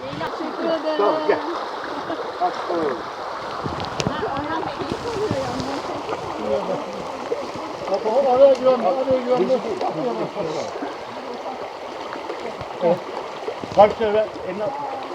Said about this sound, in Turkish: Dere geliyor